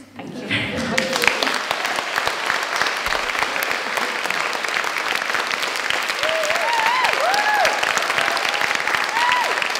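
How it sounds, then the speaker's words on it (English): Sustained crowd applause for poet Hollie McNish at the Wordlife 10th birthday party, a steady roar of many hands clapping with cheers and whoops rising through it, filling the whole stretch. "Another round of applause, please, Ms. Hollie, Mcnish"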